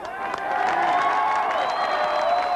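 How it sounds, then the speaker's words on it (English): A crowd at a protest rally outside City Hall cheers and applauds steadily, a dense wash of voices and clapping that swells early and holds loud throughout. "The crowd cheered a series of passionate speeches."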